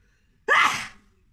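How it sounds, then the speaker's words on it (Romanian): A single sharp human sneeze, sudden and close, then trailing off quickly into silence. "Strănut. Haciu!"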